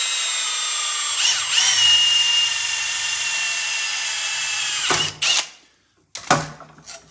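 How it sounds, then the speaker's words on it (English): Handheld power drill boring a hole into metal for a homemade fire-pit pool heater, a steady high whine for about five seconds, then brief stop-start bursts as the bit finishes, close and loud with no talk. "And then you're gonna drill it."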